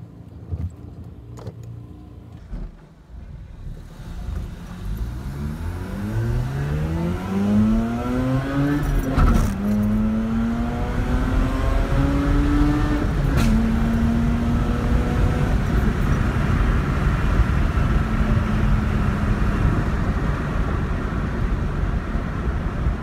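Mazda RX-8 rotary-engine car being driven, with a loud, close engine note that rises smoothly through the revs, shifts and settles into a steady cruising hum over continuous road rumble.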